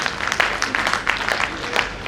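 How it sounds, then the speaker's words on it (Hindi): A crowd claps at a provincial convention as a guest is invited forward. The applause is brief, moderately loud and busy, with scattered sharper claps standing out. "तालियां जरूर बजती रहे ताकि उत्साह में कमी न रहे"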